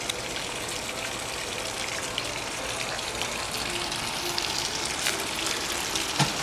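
Waterfall in a garden pond whose algae-covered rocks are collapsing a little, a steady close gush of splashing water that holds constant throughout, heard alone without talk.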